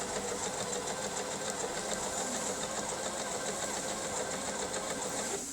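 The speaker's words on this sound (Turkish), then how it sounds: "Ayak kumaş üzerinde gidip geliyor ve çift dikiş yapıyor" Pfaff 1132 sewing machine stitching stretch fabric with a double stitch, its presser foot moving back and forth; a steady, fast mechanical whir and rattle runs close and loud throughout with no talking.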